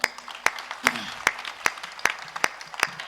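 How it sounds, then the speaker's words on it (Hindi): An audience at a Hindi-Urdu poetry recital claps in response to a ghazal, with a few sharp hand claps landing in a steady, spaced rhythm over faint background murmur rather than a dense ovation. "एक बार जोरदार तालियां बजाकर।"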